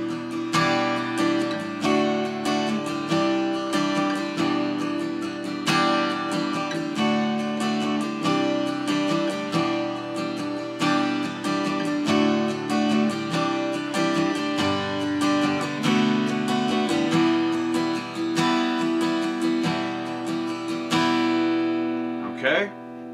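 A guitar plays the chords of a song at regular tempo, steady picked arpeggios ringing on in a continuous rhythmic pattern, close and clear, ending on a final strum.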